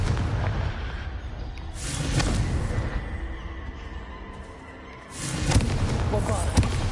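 A Confringo blasting spell in Hogwarts Legacy goes off as booming explosions, a couple of heavy blasts with rumbling tails, loud and near, while a voice talks over the game.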